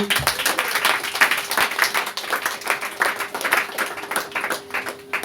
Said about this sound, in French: Alors on acclame notre Seigneur bien-aimé.